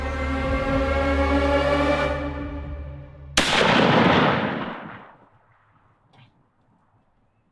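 A single sharp gunshot fired at a wild turkey gobbler during a hunt cracks loud and close, cutting off steady low outdoor noise, then rolls away in a fading echo over a few seconds before near silence returns.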